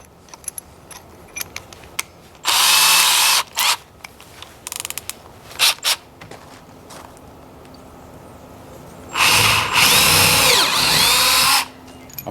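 Power drill boring holes into wooden wheelbarrow parts during a repair, two long loud drilling runs with short trigger bursts and clicks in between, close and without speech.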